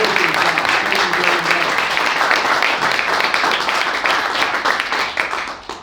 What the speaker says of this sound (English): Can you put your hands together and give these young people a round of applause?